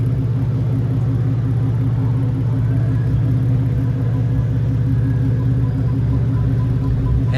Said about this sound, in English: inline 6-cylinder engine.